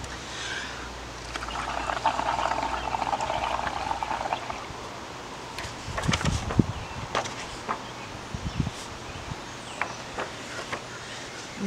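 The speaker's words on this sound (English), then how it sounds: "We're going to blow bubbles, and then we are going to catch the bubbles on our paper to make art." Someone blows through a straw into bubble solution for a kids' bubble-art activity, a bubbling, gurgling burst for a few seconds followed by scattered knocks and rustling, close and fairly loud.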